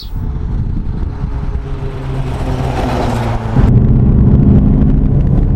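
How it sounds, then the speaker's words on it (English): Mud tyres roaring loudly on a 2010 Mitsubishi L200 pickup truck driving on the road, a steady droning hum that swells and grows louder near the end. "Listen to that, these mud tyres make a hell of a racket"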